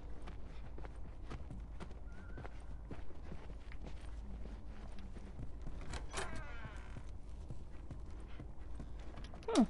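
Horse hooves clip-clop at a walking pace in The Last of Us Part II, a quiet, steady series of soft taps with faint ambient noise and a brief whinny-like sound near the end.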